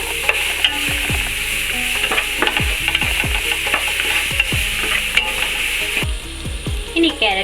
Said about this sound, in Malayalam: ഇനി ആ നെയ്യിലേക്ക് തന്നെ നമുക്ക് കുറച്ച് ക്യാരറ്റ്, ഒരു 2 ക്യാരറ്റ് ഞാൻ ഗ്രേറ്റ് ചെയ്തതാണ്, അത് ഇതിലേക്ക് ഇട്ടിട്ട് ഒന്ന് സോഫ്റ്റായി വേവിക്കാം